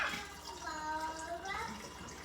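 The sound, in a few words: pouring water kefir into flip top bottles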